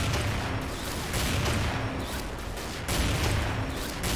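Sniper rifle fire in the game XSHOT, the 8.5 Bright Moon sniper: loud, close booming shots with long rumbling tails, one heavy report near the start and another about three seconds later, under steady game noise.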